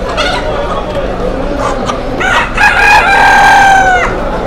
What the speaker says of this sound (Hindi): ये तो कबूतर वो मुर्गियां बेच रहे हैं देसी।